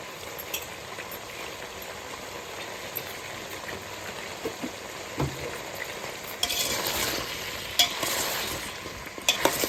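Sweet potato, cucumber, carrot and beans being stirred with salt in a pan while making sambar: a steady low sizzle with scraping stir strokes, growing louder and busier in the last few seconds, with no talking.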